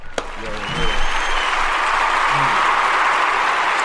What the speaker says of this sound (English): And we gonna clap it up.